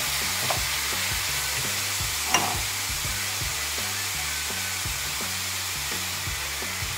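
Onions sizzling as they fry in a pan during preparation of a fava bean purée with chicory, a loud, steady crackling hiss with a faint rhythmic stirring pattern and no talking.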